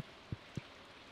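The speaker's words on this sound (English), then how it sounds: "Oh yeah, it's raining." Soft steady rain in the video game Stardew Valley, a faint continuous hiss with a couple of low dull drop taps standing out.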